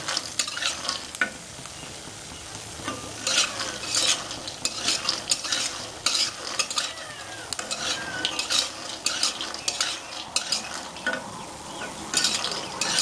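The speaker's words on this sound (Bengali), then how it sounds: "বড়িটা ভাজতে গেলে একটু তেল লাগবে, লাল লাল করে" Lentil bori frying in oil in a pan, a steady close sizzle with repeated scraping and clinking of a spatula stirring against the metal, no talking.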